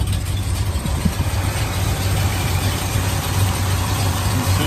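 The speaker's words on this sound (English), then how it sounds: "Let's take a listen to the engine." A muscle car's engine idles steadily, a low, even rumble with a constant hum running unbroken from start to finish, close and fairly loud with no talking over it.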